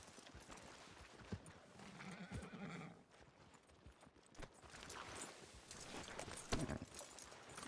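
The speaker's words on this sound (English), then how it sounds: "Are you gonna mount that new horse of yours or not?" Horse neighing and clip-clopping hooves in the video game Red Dead Redemption II, with a near whinny over steady hoofbeats and a loud snort-like burst toward the end, no talk.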